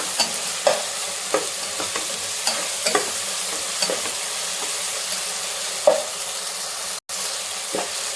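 Tomatoes and ginger-garlic paste sizzle in a pan for a fish curry, a constant bright hiss broken by regular soft scrapes of a spoon stirring every second or so, close up.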